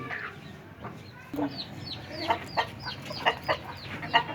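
A chicken clucks in a quick series of short, distinct calls that grow denser and louder partway through, set against a quiet farmyard background.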